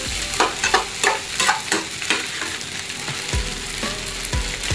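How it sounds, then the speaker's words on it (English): Indonesian nasi goreng with bakso fries in a pan, a soft steady sizzle broken by repeated scraping strokes of a spatula stirring the rice, close and without talk. "Just keep on mixing so it will not be burned."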